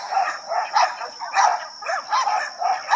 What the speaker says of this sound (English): Those two barking.